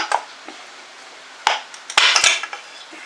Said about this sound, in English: Now that we've got the bolts out, pull the cover off.